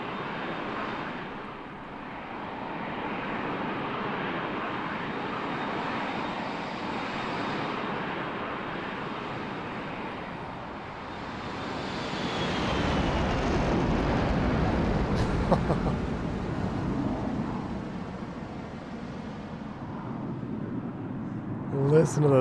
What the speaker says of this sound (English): Listen to those engines.